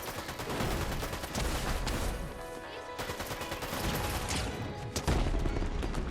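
A fire bending attack in Fortnite's Avatar update, loud and sustained with rapid crackling, blasting bursts that barely pause over several seconds.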